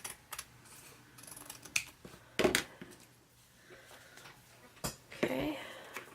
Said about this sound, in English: So I'll just take my scissors and trim.